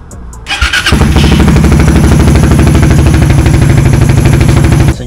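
A car engine cranks and fires up after an oil change, then settles into a loud, steady, close idle as it warms up, with no talk.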